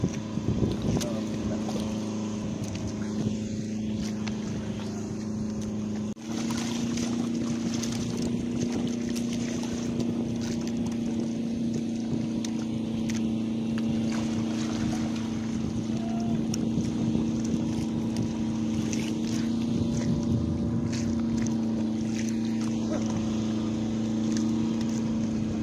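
A motorboat engine drones steadily at sea on a fishing trip, a close, even hum with wind buffeting the microphone and a brief dip in level early on.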